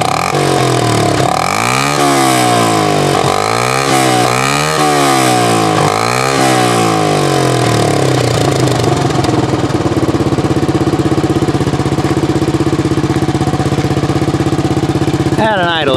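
A Honda engine with a loud homemade muffler roars close by, revving in several rising and falling surges before settling into a harsh, steady, buzzy idle.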